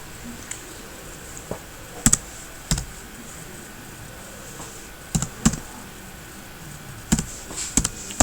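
Keystrokes on a computer keyboard while entering data in Tally accounting software: sparse, crisp clicks in short clusters separated by pauses, quiet and near, with no one talking.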